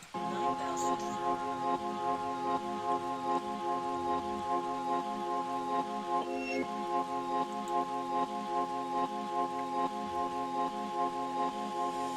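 Steady rain patters throughout under a sustained musical drone with layered harmonic tones, fairly even in loudness.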